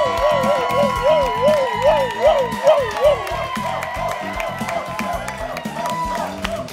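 Comedy club audience applauds and cheers to welcome the host onstage, steady clapping with whoops, and a loud voice rising over the crowd for several seconds.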